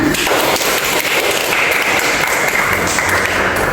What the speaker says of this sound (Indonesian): Silakan diberi tepuk tangan.